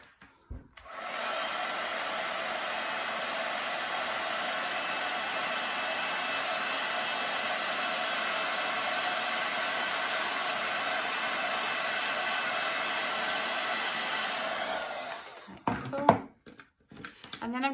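A heat tool blows hot air over a card-making embossing project, a steady close whooshing roar lasting about fourteen seconds before switching off, followed by faint handling noises.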